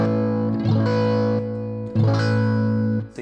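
Electric guitar overdriven through a saturated Buffalo Effects power booster pedal, with two sustained gritty chords struck in turn, each ringing with a hair of distortion before being cut off.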